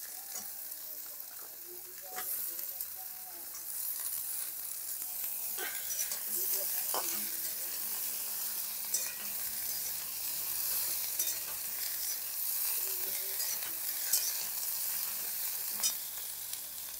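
Potatoes and Malabar spinach stems sizzling in a pan, a steady soft frying hiss throughout with occasional light clicks of stirring.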